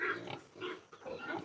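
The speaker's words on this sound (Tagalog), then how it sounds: "Ito naman baboy ng mga kapatid ko." Pigs on a farm giving a few soft grunts and oinks in short bursts, faint and somewhat distant, with a steady background hum.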